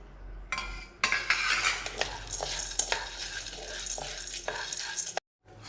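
Roasted gram tipped into a pan and stirred for a health mix, producing a dense rattling, scraping rush of dry grains against the metal with spoon clinks, close and continuous before stopping abruptly.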